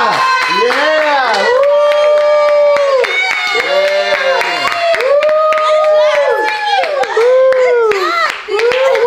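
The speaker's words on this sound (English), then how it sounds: "Give Dior a round of applause." A small group claps and applauds for someone named Dior, the hand claps steady and close under loud, sing-song whooping and cheering voices that dominate throughout.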